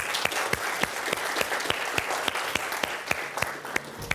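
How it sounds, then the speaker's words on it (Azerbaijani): A seated audience at a televised talk by a psychologist claps heartily in a steady round of applause, with sharp individual claps standing out over the dense crowd patter. The applause holds at an even level, and no one speaks over it. "Bir dənə özümüzə ürəkdən alqışlayaq."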